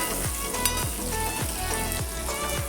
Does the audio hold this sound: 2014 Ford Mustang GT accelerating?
no